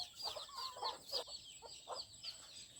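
Free-range chickens cluck nearby at a remote rural home, a run of short, repeated clucks and chatter with steady rhythm over a faint outdoor background.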